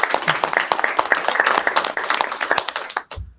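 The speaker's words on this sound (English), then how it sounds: "let's give Dawn a big round of applause." Applause from an audience after a presentation at an Air Force 75th anniversary celebration: a few seconds of brisk, busy clapping that stops abruptly, followed by a brief low thump.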